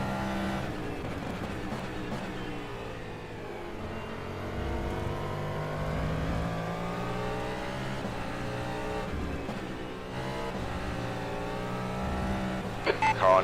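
A DPi hypercar engine screams around Road America in rFactor 2, rising and falling through gear changes in a continuous, loud drone.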